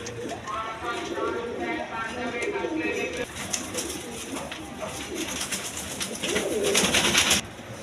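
A pair of satin pigeons coo repeatedly in soft, rolling bursts nearby, mixed with fluttering and shuffling, while a person talks over them.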